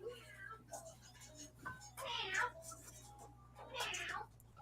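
A cat meows a few times nearby, each call drawn out and plaintive, over a low hum in a home craft room, with someone murmuring quietly in the background.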